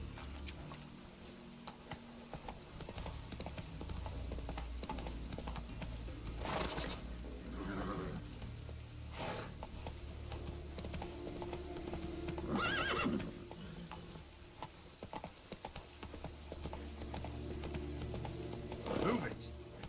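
Clip-clopping hooves of Roach, a horse in a video game, run steadily throughout, with a few whinnies and snorts breaking through over a low rumbling background; voices speak at times.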